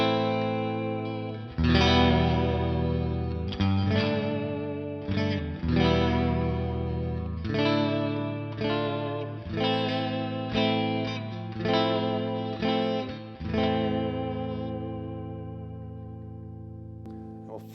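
A 1960s Fender Jazzmaster on its middle pickup setting plays through an amp with effects, strummed chords ringing loud and close with a chorus-like shimmer, a little echo and light distortion, struck in a steady rhythm with no talking over it.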